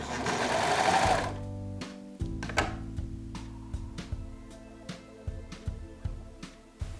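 A sewing machine stitches pajama fabric, a close mechanical whir at first, then lighter intermittent clicks and short stitching bursts, with no talk.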